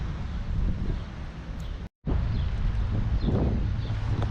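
Steady wind roars across a microphone in a Chinese garden in Malta, a constant heavy buffeting with rustling texture, briefly cutting out for a moment before returning just as strong.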